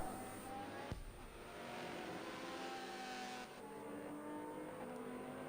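A Mini race car on a circuit, racing against Mustangs, produces a continuous engine drone at moderate distance, with a brief thump near the start and a slight shift in tone partway through.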